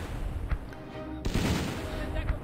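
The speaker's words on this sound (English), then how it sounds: "we can bombard the tile with our mortars" Mortar bombardment in the World War II strategy game Battle Academy 2, Operation Bagration campaign: a sustained rumble of explosions and gunfire-like bursts, with a heavier blast hitting midway and continuing loud to the end.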